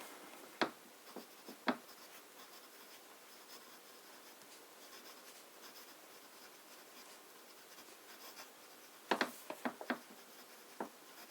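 Medium-nib fountain pen loaded with Sailor Jentle Blue ink writes on paper, giving quiet continuous scratching with sharp ticks from pen lifts and strokes, clustered near the start and again near the end, close and faint with no talking.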